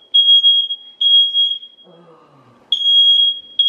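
Piercing high-pitched beeps from a smoke alarm set off by a toaster, sounding in loud repeated bursts, with a brief pause where a quiet voice speaks before the shrill tone resumes.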